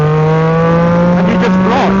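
Yamaha MT-09 motorcycle engine holding a steady loud drone before rising in pitch as it opens up after a downshift to third gear, close and dominant with wind noise.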